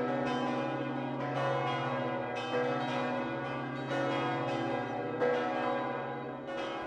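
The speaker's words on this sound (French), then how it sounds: "Léla, ban la cloche commence à sonner pour célébrer la paix." A church bell rings repeatedly in overlapping, resonant peals, each strike blooming and lingering, steady and moderately distant.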